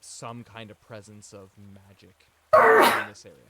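A single sharp sneeze bursts out loudly during a tabletop role-playing session, breaking into a narrator's steady speech, with talking resuming right after.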